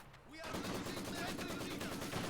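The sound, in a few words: Maxim machine gun firing in Company of Heroes video game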